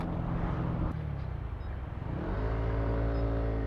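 Road traffic sounds on a Saturday from a Yamaha Aerox scooter, with a steady engine rumble and wind that dip briefly as revs change, then build again into a constant close drone, with no talk.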